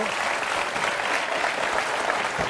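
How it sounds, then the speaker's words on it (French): Studio audience applause on the French TV game show Qui veut gagner des millions ?: loud, dense, sustained clapping from a large crowd, close and even throughout. "applaudissements pour notre ami Arnaud."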